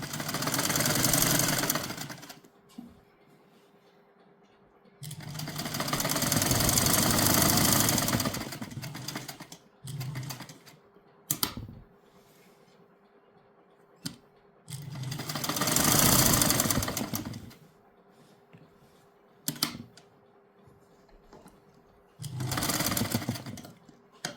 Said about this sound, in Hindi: ये देखो लगा ली सिलाई हमने